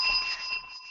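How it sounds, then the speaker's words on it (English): A small desk bell rings once with a bright metallic ding, close and clear, its tone fading out over under a second with no talk. "they ring their little bell, and it sounds like this."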